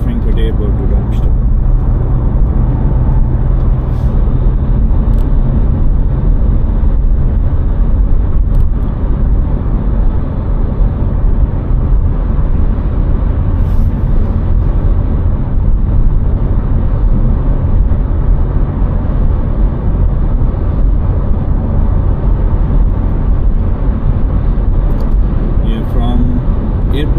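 A car drives along the A5 Autobahn from Frankfurt Airport toward Darmstadt, with a constant loud roar of engine, tyres and road noise throughout, and someone talking over it.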